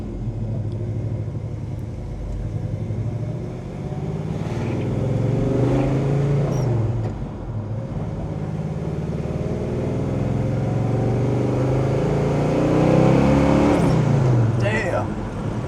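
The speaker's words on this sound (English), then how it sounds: "this new Tremec gearbox goes back down through the gears just as easily" 1967 Chevrolet Chevelle SS with a 454 V8 and Tremec gearbox heard from inside while driving, engine rumbling with rev swells and dips as it steps down through the gears, with a person talking over it.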